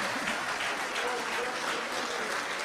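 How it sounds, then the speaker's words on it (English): An audience at a talk applauds in a steady, dense patter that holds for a few seconds without pause. "I predicted there would be no applause"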